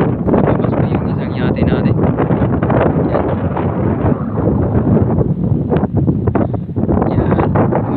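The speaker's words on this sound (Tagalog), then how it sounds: "Medyo mahangin-hangin na po guys no." Strong wind at Manila Bay buffets the microphone with a constant loud rumbling roar throughout, while someone talks briefly over it.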